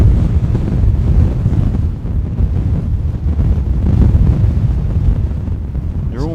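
Strong storm wind at Gatwick Airport during Storm Bert roars continuously in loud, gusting buffets against the microphone, a dense broadband rush with no pauses.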